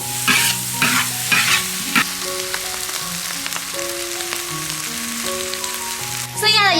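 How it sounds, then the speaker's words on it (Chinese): Dry-pot lamb offal being stir-fried in a wok with onion, a loud steady sizzle broken by repeated scraping and tossing strokes, with music playing underneath throughout. "给它翻炒一下就可以出锅了"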